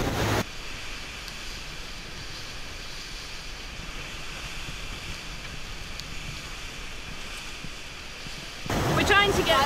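Ocean waves and strong trade winds around a sailboat racing offshore: a steady broadband rush of surf with wind buffeting the microphone, swelling louder in a brief burst near the end.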